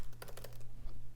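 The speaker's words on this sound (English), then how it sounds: "So we have a magic keyboard now." Typing on the Magic Keyboard of a 2020 13-inch MacBook Pro: a quick run of soft, close key clicks in the first half, thinning out afterward, over a constant low hum.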